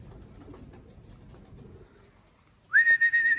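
Pigeons coo and whistle in a short, loud burst near the end after a quiet stretch of low rumbling background; flock birds released to fly in hot evening weather.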